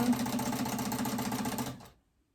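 Sewing machine stitching a fabric phone pouch, a fast, even mechanical whir of needle strokes running for under two seconds before stopping dead into silence.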